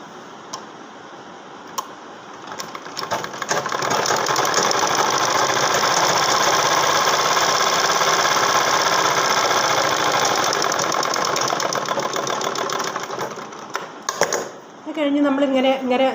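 An electric sewing machine stitches a saree blouse in a steady, rapid mechanical run lasting most of the clip, close and loud, with brief pauses near the start and end.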